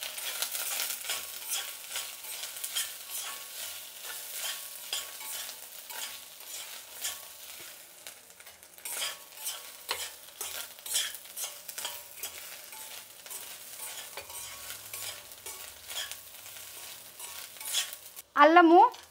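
Peanuts and grated coconut fry in oil in a pan with green chilli, stirred steadily, giving a continuous close sizzle and scraping that runs throughout, then a brief louder clatter at the very end; no one speaks.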